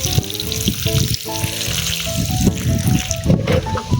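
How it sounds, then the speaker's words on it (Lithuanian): Water splashes and hisses steadily as some of it is poured out of a full, heavy garden watering can in a village, heard up close. "Šitas sunkesnis, trupučiuką jo išpilsim."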